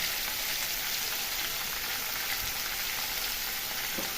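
Onions fry in a hot pan before chicken goes in for a spicy meat kosha, giving a loud, steady, close sizzle and crackle that runs unbroken throughout, with no voices.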